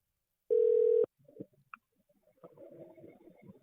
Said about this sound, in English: I have a hard time putting these numbers in the phone